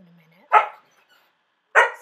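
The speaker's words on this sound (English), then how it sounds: "Excuse the dog barking." A dog barks twice in a quiet indoor setting during fiber dyeing, two sharp, fairly loud barks spaced just over a second apart, preceded by a faint low whine.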